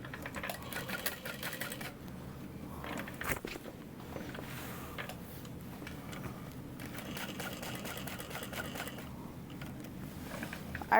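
Sewing machine basting the seam of a tote bag, a steady close mechanical whir of fast stitching that pauses briefly a few times, with no talking.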